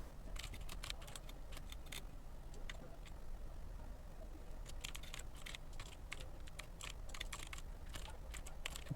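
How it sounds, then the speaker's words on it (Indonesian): Keys clatter on a computer keyboard as code is typed for a data-structures assignment, quick close bursts of taps in two runs separated by a pause, over steady low background noise. "Nah, langsung saja saya ketikkan."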